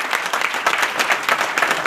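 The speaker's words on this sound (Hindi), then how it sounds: "जोरदार तालियां" A short, loud burst of enthusiastic applause rises from a crowd at a company business-plan presentation in a hotel hall in Varanasi, dense clapping filling the whole moment.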